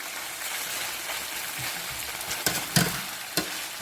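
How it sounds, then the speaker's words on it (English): Chicken meat fries in a pot for Trini-style stew chicken, a steady close hiss and crackle with a few sharp utensil knocks toward the end, and no voices. "When you fry down this meat and allow it to fry."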